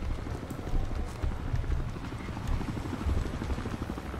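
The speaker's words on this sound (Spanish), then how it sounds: "Necesito que se vaya el helicóptero." Helicopter in the video game Battlefield Hardline, a steady low rhythmic rotor thump running throughout at moderate level, mixed with other game noise.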